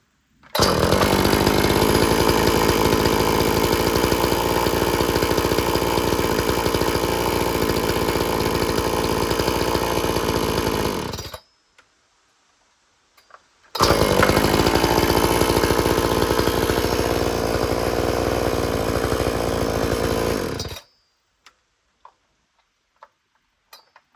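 A Husqvarna 455 Rancher chainsaw engine running loud and close at a high steady drone for about eleven seconds, cutting out, then a second long run before it stops, with light ticking in the quiet gaps.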